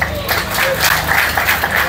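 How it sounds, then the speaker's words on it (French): A crowd at a committee presentation event claps in a brief, busy burst of applause, fairly close and loud, with a voice faintly mixed in. "Je vous demande d'applaudir encore."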